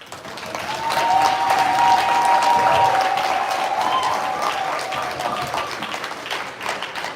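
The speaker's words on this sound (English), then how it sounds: "Now can you have a thunderous hand clap for the president?" Convention crowd at a Chicago diaspora gathering gives the president a big round of applause, a loud burst of dense clapping that rises within the first second, then slowly tapers while some cheering carries through.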